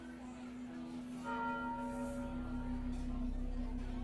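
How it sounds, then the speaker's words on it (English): A church bell tolls from a spire, a sustained ringing tone that swells and hangs in the air, fairly faint and distant, with no other sounds around it. "the tolling started"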